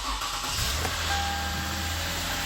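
A car engine idles high just after its battery was disconnected and reconnected, a steady low rumble running close and continuous with no talk.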